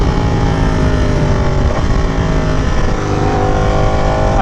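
A Ducati Panigale V4S engine in race mode runs loud and steady close by, with a dense roar as it pulls through gear shifts. There is no speech.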